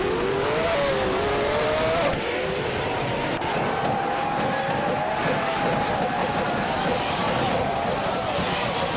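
Sauber C15 race cars in a racing video game scream past with high, shifting engine tones and tire noise, a continuous loud drone that drops in pitch as one car passes.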